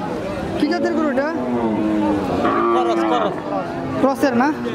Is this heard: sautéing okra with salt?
no